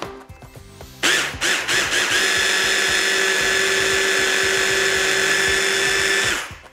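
Food processor or blender whirring steadily as it blends shrimp butter with a splash of lemon juice, starting abruptly after a brief quiet moment, then holding a loud, even high-pitched motor whine for several seconds before cutting off.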